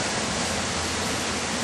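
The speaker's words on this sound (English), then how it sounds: "it's pouring the rain" Heavy rain pours down in Oklahoma City during the Hurricane Ike storm, a dense, steady roar of broadband hiss that fills the whole clip, close and loud, with no break or voice.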